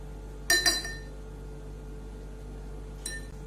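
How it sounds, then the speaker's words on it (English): A spoon clinks twice against a glass holding a mixture of sand and water, two quick bright taps close together, then a single fainter clink about two and a half seconds later over a quiet background. "In one glass, there is a mixture of water and sand. I'll mix it with a spoon."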